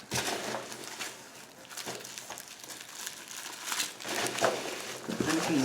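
Hands rummage through styrofoam packing peanuts in a box, giving soft, continuous crinkling and rustling with occasional sharper squeaks, close and fairly quiet, with no talking.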